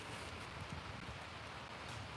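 Steady, even rain hiss filling the background, constant and moderately soft with no other distinct sounds.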